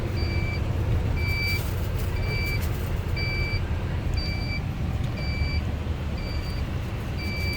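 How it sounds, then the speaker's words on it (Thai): A wheel loader scooping napier grass sounds a regular reversing beep, repeating at an even pace over a steady rumble of engine and low machinery noise. "รถตักกำลังตักครับ"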